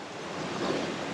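Ocean waves wash steadily under wind noise beside a sailboat sheltered by an island near Barbuda after days of 20-plus-knot wind, a continuous broad surge with no voices.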